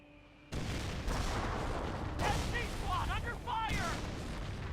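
A Wurfrahmen rocket barrage in Company of Heroes erupts suddenly into a loud, sustained roar of launches and explosions with deep booms, while a voice talks over it.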